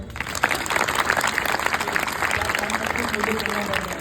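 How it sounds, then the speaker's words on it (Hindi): A crowd claps in a dense, steady burst of applause that lasts throughout, with a voice faintly audible beneath it. "ताली बजा दो।"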